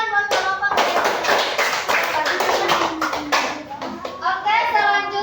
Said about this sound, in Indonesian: Tepuk tangan buat kelompok energi.